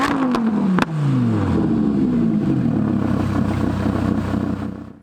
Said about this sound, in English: This car does actually have a Soul Performance exhaust on it as well.